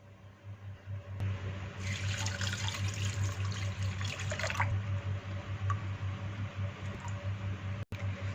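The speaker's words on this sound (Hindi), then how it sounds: "चार पानियों में इसे अच्छे से वॉश कर लिया है।" Amla (Indian gooseberries) are stirred and rinsed in a container of water in a kitchen, giving a faint, steady swishing and trickling with light splashes throughout.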